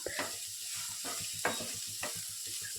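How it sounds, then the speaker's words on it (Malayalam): Chopped onions with a pinch of salt being sautéed in a pan, a quiet sizzle broken by a few soft stirring scrapes at steady intervals, no voices. "രണ്ട് ചെറിയ സവാള അരിഞ്ഞെടുത്ത് വെച്ചത് ഇട്ട് കൊടുക്കാം ഒപ്പം തന്നെ ഒരു കാൽ ടീസ്പൂൺ ഉപ്പും കൂടി ചേർത്ത് വഴറ്റി തുടങ്ങാം"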